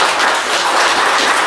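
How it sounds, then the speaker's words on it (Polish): An audience at a winter concert of classical music applauds, a dense, even wash of clapping that fills the whole short moment without a break. "Jeszcze raz wielkie brawa za..."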